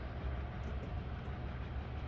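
A passing train in a train simulator game on a night route from Miami to West Palm Beach, a steady low rumble of rolling rail cars filling the whole stretch without a break.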